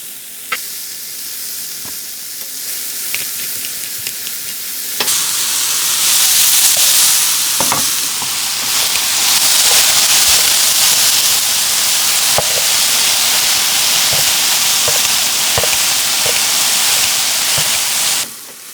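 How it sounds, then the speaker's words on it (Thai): Beef stir-frying for a barbecue beef sandwich, seasoned with salt, pepper and Worcestershire, sizzling loudly and steadily in a hot pan, starting softer and then swelling into a full, continuous hiss with scattered scraping clicks of stirring. "เราก็เอาเนื้อลงไปผัด"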